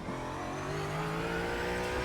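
A Ford Mustang GT4 race car in iRacing, lapping the St Petersburg street circuit, holds a continuous loud engine drone that climbs gradually in pitch as it accelerates, with no talking.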